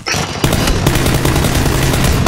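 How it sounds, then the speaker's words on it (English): Tommy gun with an extended magazine fires in PUBG as a rapid, sustained burst of loud, close automatic shots in an even rhythm, with no talking over it. "Every extended mag round, 50 bullets of that Tommy gun through that guy's face."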